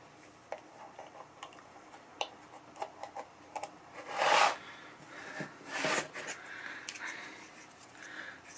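Scotch Magic tape being trimmed to width for taping over a Hohner harmonica reed, close and quiet, with small scattered clicks and ticks and a few brief louder rasping cuts.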